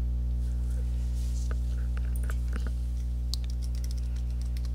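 Keystrokes of a username being typed on a computer keyboard, scattered soft clicks at a moderate distance over a steady electrical hum.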